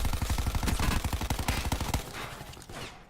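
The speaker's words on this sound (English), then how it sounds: "The Spitfire is a very good SMG to use. It has really high fire rate" Rapid automatic fire from the Spitfire SMG in the Black Ops 4 Blackout battle royale game, a dense fast burst of loud shots for about two seconds, then a fading tail.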